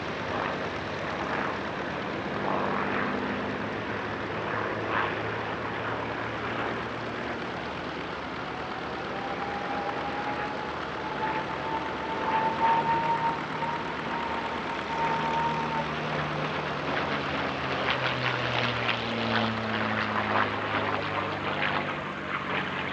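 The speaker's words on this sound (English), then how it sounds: "there are some Mustangs without gun ports that still produce a similar sound." A P-51 Mustang fighter plane passes at an airshow, heard as a steady distant engine roar with a faint rising whistle partway through, under broad outdoor noise and without speech.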